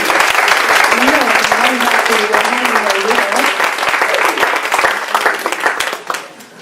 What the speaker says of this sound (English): So clap your hands for Peggy